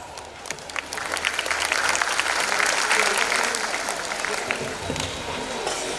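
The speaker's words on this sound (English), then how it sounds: "Let's give them a big round of applause." An audience at a school annual function breaks into loud, sustained applause, many hands clapping densely and steadily before tapering slightly toward the end.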